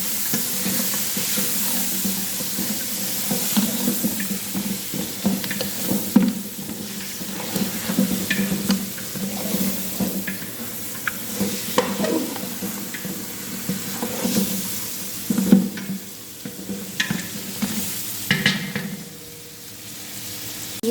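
Spices, berbere among them, are stirred and fried with onions in a pan, a steady sizzle running throughout with repeated scraping and stirring knocks, close and moderately loud, no talk.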